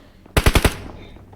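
Four rapid gunshots crack out in a tight burst of automatic fire during a video game match, loud and close, then die away into quiet.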